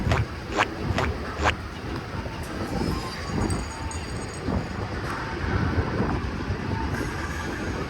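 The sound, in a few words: train passing on an elevated line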